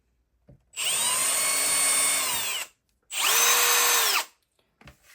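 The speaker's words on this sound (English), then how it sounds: "Getting approximately the size of the drill, or the punch, so I can get the right drill bit" A power drill boring into leather whirs in two bursts, a longer run then a shorter one, its pitch steady and high, close up with quiet between.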